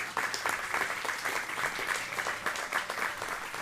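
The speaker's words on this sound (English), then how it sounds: "Give her a big clap." An audience at a community independents evening applauds steadily for a few seconds, a dense, even clapping from a roomful of people heard without talk.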